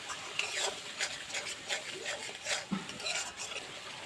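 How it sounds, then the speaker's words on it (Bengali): Ground spice paste sizzles and is stirred in a pan with a little added water while cooking a Bengali cauliflower rohu fish curry, giving soft scraping and clinking utensil strokes at a steady pace, close and moderately quiet. "অল্প একটু জল দিয়ে গুঁড়ো মশলাটা কষালে তাহলে গুঁড়ো মশলাটা পুড়বে না"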